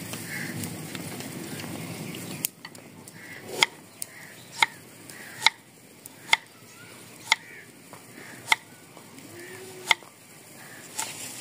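A knife chops capsicum on a board during outdoor village cooking, about ten crisp evenly spaced knocks close by, following a softer stretch of background noise.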